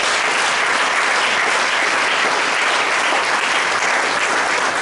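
A church congregation bursts into loud, sustained applause at a Sunday service, a dense wash of clapping from many hands that holds steady throughout.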